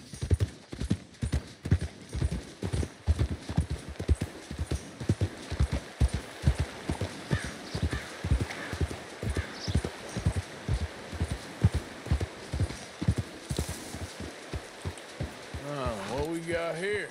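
Horse hooves clip-clopping at a steady walking rhythm in the video game Red Dead Redemption 2, close and continuous for the whole stretch, with voices talking over the later part.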